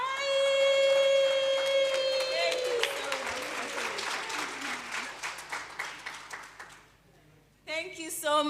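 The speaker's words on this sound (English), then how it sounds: "Let us teach you how we will come and applaud our special guests." An audience at an agri-food systems event applauds special guests in a rhythmic, patterned way, mixed with a sustained sung or chanted tone that fades before a brief return of voices.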